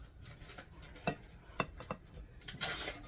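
A spoon stirs pasta salad ingredients in a bowl, giving a few sharp clinks and scraping strokes at an uneven rhythm, fairly quiet with no talk.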